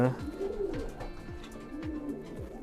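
Pigeons cooing in soft low descending phrases, repeated several times in a steady rhythm, close by with faint background murmur.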